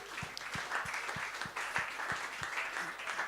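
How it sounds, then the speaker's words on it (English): An audience at a freelancing panel discussion in Australia breaks into a continuous round of applause, a dense hiss of clapping with soft, regularly spaced low thumps running beneath it. "Please, big round of applause for Bridge again."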